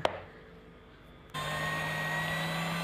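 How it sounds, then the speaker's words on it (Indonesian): Donut dough being kneaded by an electric mixer: after a brief quiet moment the motor switches on abruptly into a steady whirring drone with a constant hum, close and continuous. "ini saya gunakan mixer"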